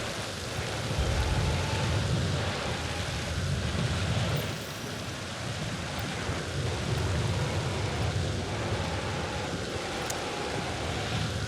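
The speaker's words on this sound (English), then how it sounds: "I feel like the storm is a bit loud" A thunderstorm in the video game Directive 8020 gives off a steady, loud wash of rain and deep rolling rumble that holds across the whole stretch, with no distinct voice over it.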